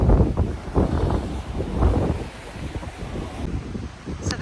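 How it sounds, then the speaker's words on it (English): Strong wind on the Amalfi coast buffets the microphone in loud, gusting rumbles near the sea, rising and falling over a few seconds. "it's so windy"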